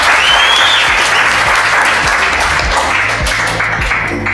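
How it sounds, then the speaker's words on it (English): An audience applauds two finalists at a Mrs. Right matchmaking show, a loud, dense wash of clapping that holds steady and close throughout with a faint whistle-like tone early on. "Let's clap for them, ladies and gentlemen."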